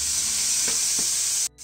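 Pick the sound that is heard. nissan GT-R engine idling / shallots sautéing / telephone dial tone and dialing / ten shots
shallots sautéing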